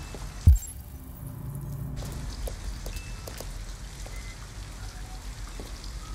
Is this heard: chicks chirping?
no